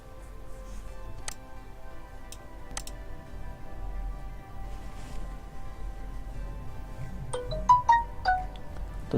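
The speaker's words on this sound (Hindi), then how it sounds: "मुझे एक एसएमएस जो नादरा की तरफ से वो रिसीव हो चुका है।" A phone gives a brief, bright melodic notification tone for an SMS from NADRA, heard near the end after some quiet clicks and taps.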